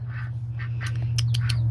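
Soft, high-pitched peeping calls from goslings, several short chirps over a steady low hum, fairly close.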